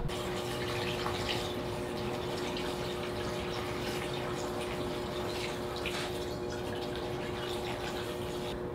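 A pump charged from containers of water pushes water through a drag Mustang's cooling system, making a steady, continuous rushing and gurgling over a constant mechanical hum with no break.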